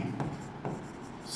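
Chalk or marker writing a sentence on a board in a classroom lecture, two short quiet scratching strokes close by over a faint room background.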